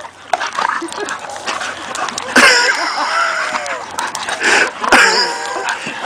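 A dog whimpers, yips and barks in short excited bursts, with several loud sharp yelps, while people talk over it.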